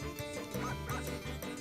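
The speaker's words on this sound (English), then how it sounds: "Pet the dog." A dog in the video game Suikoden V barks when petted, a quick run of sharp yips and barks with soft whimpering tones, close and clear over quiet game sound.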